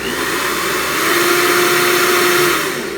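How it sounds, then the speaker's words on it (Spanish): A hair dryer switched to its higher second speed setting runs with a steady, loud whirring blow, drawing heavily on power, unbroken for the whole stretch with no talk. "Este secador de pelo le ganó a todos los aparatos que más consumen energía en su casa"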